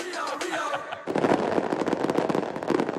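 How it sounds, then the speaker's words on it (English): Fireworks mark the start of Carnival in Rio de Janeiro: after a moment of crowd voices, a dense, rapid barrage of crackling bursts and pops erupts and keeps going, loud and close. "Those fireworks signify the beginning of Carnival."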